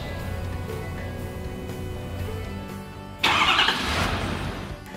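A Ford 6.7L Power Stroke diesel pickup engine cranks and catches at about three seconds with a sudden loud burst, then settles into a steady, rumbling idle close by.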